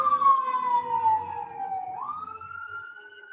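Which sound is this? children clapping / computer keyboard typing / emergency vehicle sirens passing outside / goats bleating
emergency vehicle sirens passing outside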